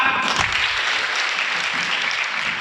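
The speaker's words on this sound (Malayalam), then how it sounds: "ക്ലാപ്പ്" A group of people, likely children, clap together in a short, steady burst of applause, close and fairly loud, with a brief sharper onset at the start.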